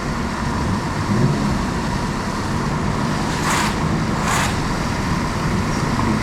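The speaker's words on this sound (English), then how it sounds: "That was an incredible downshift" Manual Toyota GR86 on the road, a steady engine and road roar with wind buffeting, plus two short bursts of rising rev mid-clip as it downshifts, no talk.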